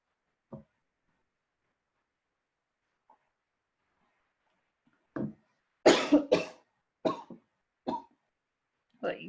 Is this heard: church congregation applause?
no